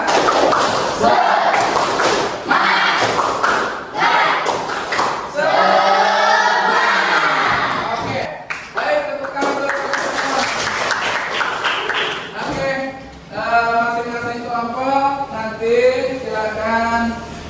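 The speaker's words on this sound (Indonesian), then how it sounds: "Ketika kata Pak Oji, tepuk semangat, semangat." A school class performs the tepuk semangat spirit clap, sharp rhythmic group claps and thumps alternating with loud chanted voices in a classroom, the pattern repeating several times.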